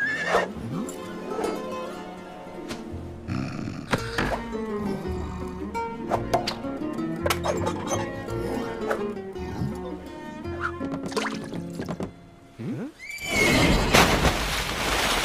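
Horse from the animated film The Road to El Dorado neighing and whinnying in several loud bursts amid film music and sound effects, ending in a noisy rush.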